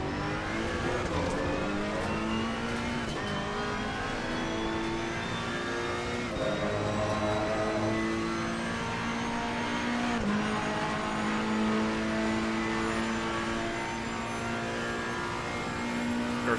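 Ferrari race car engine in the racing game Assetto Corsa Competizione at the Barcelona circuit, a loud, continuous high-pitched roar that climbs and drops through gear changes.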